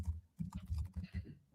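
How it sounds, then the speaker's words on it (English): Someone types a comment on a computer keyboard in short bursts of soft, close keystrokes with small pauses, fairly quiet and free of speech. "I'm just typing a comment where they can reach out to partners."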